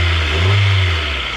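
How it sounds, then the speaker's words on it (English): A 2000 Honda CR-V engine revs up close, rising to a loud sustained roar before easing off slightly, with no talking. "It revs right up."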